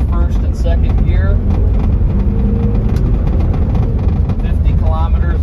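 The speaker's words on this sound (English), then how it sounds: "So there's first and second gear." A 1997 Isuzu Trooper with the 3.1 diesel pulls through first and second gear on a dirt road in Michigan, its loud low engine drone rising steadily in pitch, with tyre and road noise beneath it.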